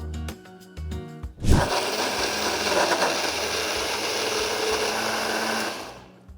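A mixer grinder blending mint chutney with lemon starts with a sharp whir after a few quiet clatters, then blends loudly and steadily for several seconds before stopping.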